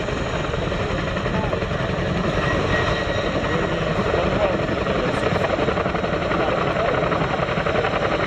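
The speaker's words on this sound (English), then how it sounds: "returning the aircraft to the hover" Helicopter at an airshow display hovering and maneuvering, a loud steady rotor and turbine roar filling the whole stretch, close and continuous with no talk over it.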